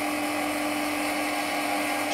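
A Tesla coil generator in a science show runs with torn napkin pieces laid on top, producing a loud, steady electric buzzing whine that holds unbroken throughout.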